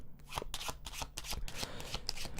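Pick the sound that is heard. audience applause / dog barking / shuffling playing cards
shuffling playing cards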